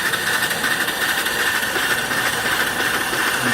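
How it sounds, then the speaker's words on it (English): A small off-grid steam engine driving an alternator runs at its top speed of about 250 to 300 RPM, giving a steady, close mechanical chugging and rattling hum with no voices. "That's about as fast as it goes. About 250, 300 RPM. That's the engine."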